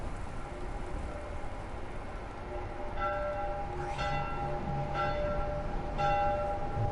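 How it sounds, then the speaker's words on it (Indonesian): A church-like bell rings in The Last of Us Remastered video game, several measured strikes about a second apart with ringing overtones, moderately loud over a dull ambient rumble. "Aduh, buset, bel apaan itu?"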